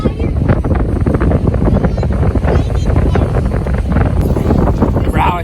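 Strong wind sweeps across an ocean view campground at Sea Isle City and rumbles steadily into the microphone throughout, with a voice speaking briefly near the end.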